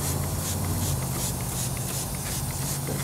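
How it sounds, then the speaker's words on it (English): Wheel and tire cleaner sprayed onto the wheels of a pickup truck, a steady close hiss running unbroken for the whole stretch with faint rhythmic pulses from repeated trigger pulls. "I've been trying to find a decent wheel and tire cleaner that's easy to spray on"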